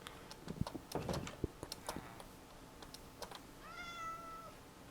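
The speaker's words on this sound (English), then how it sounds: "More kitty cats." Cats meowing in Minecraft, a short rising meow near the end after scattered clicks and soft ticking sounds throughout, quiet and close, with no talk.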